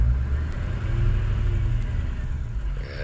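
A diesel truck engine pulls away for a drive, a steady, loud, close low rumble that holds evenly throughout.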